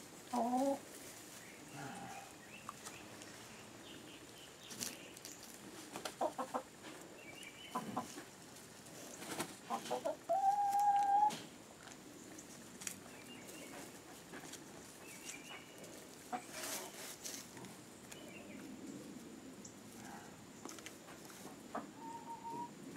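Backyard hens in their grassy pen cluck and murmur softly at a distance, with scattered faint calls and rustling over a quiet outdoor background.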